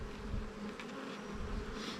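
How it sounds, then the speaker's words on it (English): Honeybees buzz at the busy side of a beehive during a hive inspection, a dense, continuous close-up hum with no talk. "this is the really busy side. Yep, with the bees coming out, huh?"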